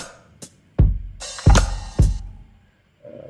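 A lo-fi drum pattern with punchy kicks and a bright open hi-hat ringing briefly between hits, cut off at the snare, followed by a soft held tone at the end.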